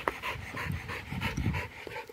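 A dog pants hard after fetching a toy, quick rhythmic huffing breaths close to the listener, with no voices over it.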